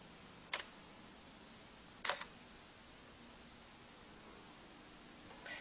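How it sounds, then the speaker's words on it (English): A single-lens reflex camera tethered to a computer fires its shutter, two short crisp clicks a second and a half apart, then a softer third click at the end, over quiet background hiss. "I'm going to go ahead and click the button."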